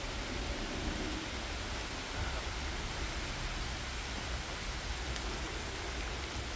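Heavy rain pours steadily in the woods in May, a dense, even hiss of drops filling the clip without a break.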